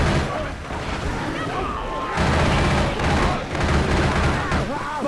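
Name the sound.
gunfire in the video game Left 4 Dead 2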